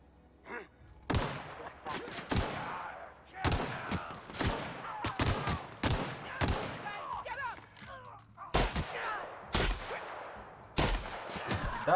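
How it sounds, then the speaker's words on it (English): Shotgun blasts ring out in The Outer Worlds, a dozen or so sharp, loud reports at irregular intervals with echoing tails and scattered game sounds between them. "That's a shotgun."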